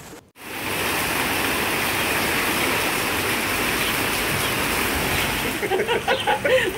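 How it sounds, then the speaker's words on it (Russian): Floodwater rushes through city streets on Frantsuzsky Boulevard after a heavy summer downpour, a loud steady torrent of churning water with a few faint splashes near the end. "Местами бурные потоки воды затрудняли проезд на Французском бульваре"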